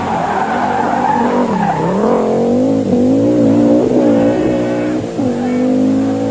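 An Audi Quattro four-wheel-drive rally car races hard on dry tarmac, its loud engine rising and falling in pitch through gear changes, with tire squeal and skidding as it powers through corners.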